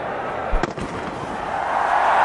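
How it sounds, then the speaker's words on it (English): Fireworks going off at a cricket stadium during an India versus South Africa one-day international: a few distant bangs and crackles above a steady crowd roar. "Got fireworks in the background."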